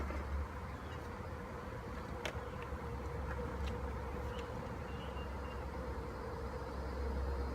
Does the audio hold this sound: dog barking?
no